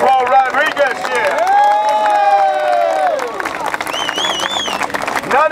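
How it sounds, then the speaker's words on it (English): A crowd at a political rally in Bay Ridge, New York, cheers, whoops and claps loudly, with shouted voices rising over the applause. "applause for Paul Rodriguez here"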